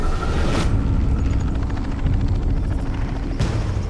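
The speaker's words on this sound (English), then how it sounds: "The helicopter arrives." A helicopter arriving over the African bush during a wildlife darting operation, a loud, steady low rumble of rotor and engine noise filling the whole stretch, close and continuous.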